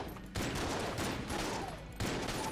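Rapid gunfire bursts from a weapon in the video game Enter the Gungeon, loud dense volleys that cut in sharply, pause briefly, then resume in three clusters with no voices.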